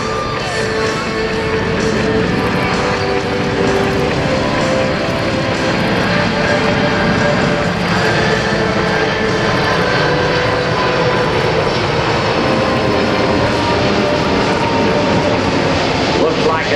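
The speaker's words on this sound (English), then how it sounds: "Look to your right now for the C-5M, the new Super Galaxy." A Lockheed C-5M Super Galaxy military transport flies low and slow past an air force base airshow crowd, its engines a loud, steady roar that holds throughout while an announcer talks over the PA.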